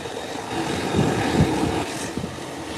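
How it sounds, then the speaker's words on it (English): An Embraer 120 Brasilia turboprop at Howard Hamilton International Airport, its propellers giving a steady, loud, close droning hum that swells slightly midway. "The Brasilia Embraer 120. Look at those lively props."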